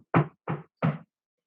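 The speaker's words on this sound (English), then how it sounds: "there was a knock at the door" Three evenly spaced firm knocks on a wooden door, close and distinct with short silences between, sounding alone as a door knock in a read-aloud telling of the Three Little Pigs.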